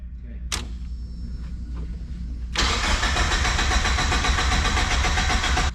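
A turbocharged Mazda Miata is cranked but does not catch. A faint click and a few quiet sounds come first, then the starter churns loudly and steadily for the rest of the clip.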